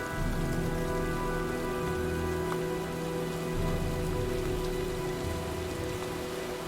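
Steady rain pours down throughout in the video game Heavy Rain, a dense continuous hiss of drops on surfaces with a low rumble underneath, loud and even with no talking.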